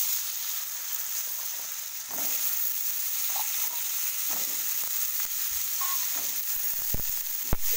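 Cut potatoes go into a pan of fried spring onion masala, producing a steady, strong frying hiss throughout with occasional light clicks of a spoon.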